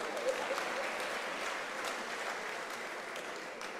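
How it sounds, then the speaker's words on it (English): Steady applause from an audience at an academic year opening ceremony, a fairly quiet, even wash of clapping that holds at one level throughout without pauses or speech. "I think we need a round of applause."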